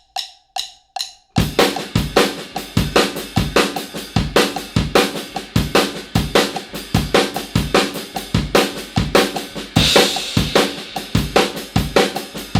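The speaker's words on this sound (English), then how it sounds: "The last cymbal pattern that Matt demonstrated in that video is a sort of inverted shuffle pattern." A drum kit plays an inverted shuffle cymbal pattern over a 7 pattern in an odd-meter, Moroccan-style groove. A few sparse taps open it, then loud, steady, rapid cymbal and drum strokes repeat in a tight cycle.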